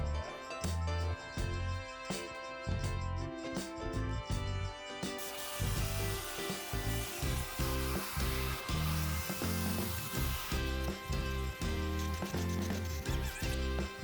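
A vacuum works over the carpet inside an Audi Grand Sport GT during a detail, its steady whooshing roar pulsing as the nozzle and brush scrub back and forth, loud and close.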